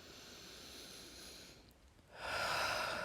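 A person takes a deep breath during a Pilates twisting stretch, starting as a soft airy inhale and swelling into a louder, fuller rush of breath near the end, with no talk over it.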